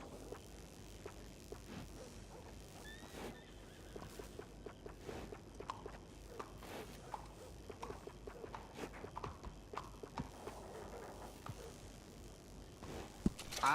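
Horse hooves clip-clop at a walking pace in the Red Dead Redemption video game, set in the early 1900s, a steady moderate patter with scattered knocks and no clear whinny.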